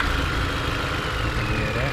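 A Chevrolet Malibu engine with a poor idle runs close by, a continuous rough rumble that wavers slightly, with a faint voice underneath.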